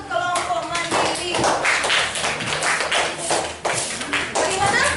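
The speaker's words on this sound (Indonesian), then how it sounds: "tepuk tangan untuk kelompok mandiri." Classroom applause for a student group, brisk close-up hand clapping in uneven bursts with children's voices mixed in and a short dip before the clapping picks up again.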